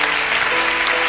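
A church congregation breaks into dense, loud applause, a short burst of many hands clapping together that fills the space, with no voices audible.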